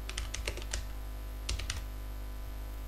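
Computer keyboard typing in two short bursts of crisp keystrokes separated by a pause, close over a steady low hum, with no talking.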